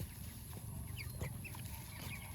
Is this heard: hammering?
no